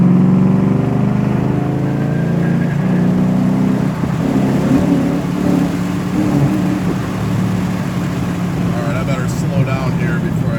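A 2008 Ford Mustang GT pulls hard in third gear, its engine droning loud and continuous with a rising note for about ten seconds, heard from inside the car.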